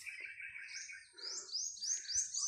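Birds chirp in a quiet countryside setting in Alabel, Sarangani Province, with high, sweet calls and rising whistled phrases overlapping continuously, clear and fairly close against an otherwise still background.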